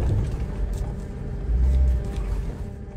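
A Polaris RZR off-road vehicle drives toward a boulder, its engine giving a close, steady low rumble that swells briefly midway.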